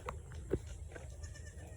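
Faint, short goat bleats in a quiet farmyard, one slightly louder call midway, with low background rumble.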